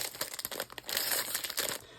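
Paper crinkles and rustles in quick, uneven bursts as papers are sorted one-handed, close by and fairly quiet, with short pauses between handfuls.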